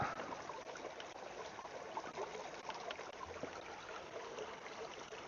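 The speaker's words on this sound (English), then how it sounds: "pour it out into the bottle like that." Bleach-treated water poured out into a bottle, a steady close trickling stream running continuously without a break.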